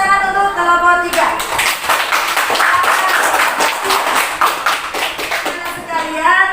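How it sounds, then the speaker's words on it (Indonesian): Students in an Islamic religious education class clap for a group that has just presented. A teacher's voice comes first, then a burst of rapid, many-handed clapping lasts several seconds and fades as talking resumes. "Beri tepuk tangan untuk kelompok 3"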